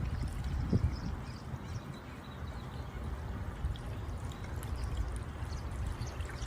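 Water from the black tank flush of a Brinkley Z3100 RV pours and rushes in a steady, fairly faint stream, with a brief knock near the start.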